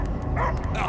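Dog barks ring out in a Guardians of the Galaxy game scene, set on Knowhere, as a few short close yaps and yips over a dense, noisy game background.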